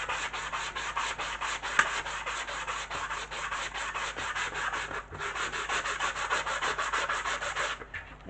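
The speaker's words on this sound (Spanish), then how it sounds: "esa junta con un taco de lija de grano medio, para intentar deshacer ese bordillo que tiene en algunos sitios que sobresale más" A medium-grit sanding block rubs over a soft plastic joint in quick, continuous back-and-forth strokes, close and steady, with a brief pause midway.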